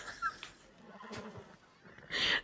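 A horse in a video game whinnies after being slapped, a short neigh rising clearly near the end, with faint game noise and a voice earlier.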